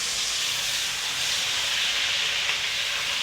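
Ginger garlic paste sizzles in hot oil in a pan after browned onions are removed, a steady, bright, hissing fry that holds level and close without any talking.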